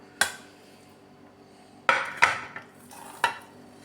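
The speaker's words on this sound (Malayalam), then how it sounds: "ഇത് നമുക്ക് തേങ്ങയിലേക്ക് മിക്സ് ചെയ്യാം" A spoon clinks and scrapes against a bowl while crushed mango and shallots are stirred into grated coconut for a mango coconut chutney, a few sharp knocks and scraping strokes, close and clear with no talk.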